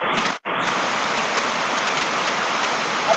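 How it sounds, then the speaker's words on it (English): Steady heavy rain hissing through a phone line, broadband and continuous, with one brief dropout near the start; no talking. "I can't hear you because of the rain."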